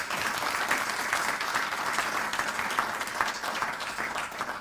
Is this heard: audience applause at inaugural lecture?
yes